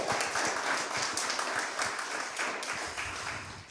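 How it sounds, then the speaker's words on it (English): Seminar audience applauding, a dense, steady patter of many hands clapping that fills the whole stretch and fades slightly toward the end, with no talk over it. "Okay, everyone, give a round of applause for them,"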